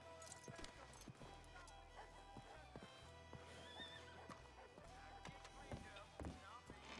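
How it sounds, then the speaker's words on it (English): Several horses in a video game whinny and neigh over a bed of clip-clopping hooves, busy and continuous, with faint voices in the background. "There's a lot of horses here."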